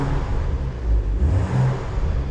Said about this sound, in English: we'll give it a little rev, let you hear what it sounds like